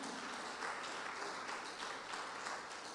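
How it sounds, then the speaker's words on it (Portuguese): A church congregation at a morning Pentecostal-style service claps together in praise: a faint, dense, continuous patter of many hands throughout, even and unbroken, with no talk over it. "E vamos aplaudir o Senhor nessa manhã?"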